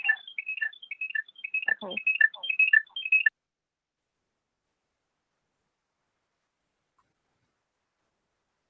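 A telephone ringtone sounds from a computer during a video call, a quick repeating pattern of bright electronic tones for about three seconds before cutting to silence, with a brief spoken word partway through.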